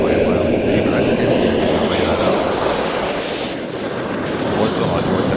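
L-39 Albatross military jet trainers fly at a general aviation airshow in Saudi Arabia, their engines making a loud, steady roar that fills the whole stretch.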